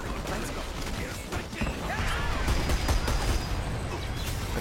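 Weapon fire in the online shooter Dirty Bomb, a dense run of rapid gunshots and mechanical clatter sustained throughout at close range, with a player's voice mixed underneath.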